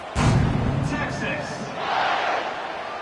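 Stadium crowd at a Texas vs South Carolina football game roars as the kickoff unit takes the field after a touchdown, a loud sustained cheer that surges and swells again, with a commentator talking over it.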